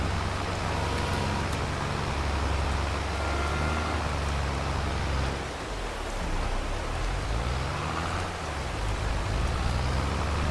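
Steady rain in Farming Simulator 22, a continuous broadband hiss blended with a low vehicle engine rumble, unbroken throughout and fairly loud.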